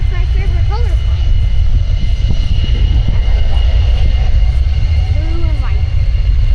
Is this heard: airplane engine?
yes